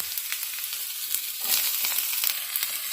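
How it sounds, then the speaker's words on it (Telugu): Thinly sliced shallots and onions fry in hot oil in a pan, a close crackling sizzle that swells noticeably louder halfway through and keeps popping steadily, with no voices. "ఫస్ట్ పాన్ పెట్టుకొని ఆయిల్ వేసుకొని చిన్నుల్లిపాయలు అండి సన్నగా కట్ చేసుకున్న చిన్నుల్లిపాయలు"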